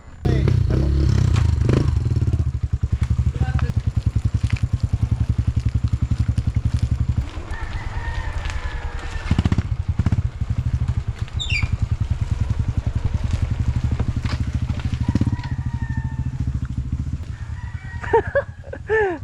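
A Yamaha WR 155 off-road motorcycle engine drones loudly and continuously nearby, revving and pulsing, with birds calling and faint voices in the background.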